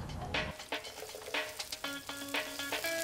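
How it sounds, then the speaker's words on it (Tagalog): Onion sautéing in a pan over a bamboo-fuelled cooking fire, a steady sizzle and crackle with repeated scraping stir strokes and clinks at a near distance, heard with no talk. "Igigisa muna ang sibuyas"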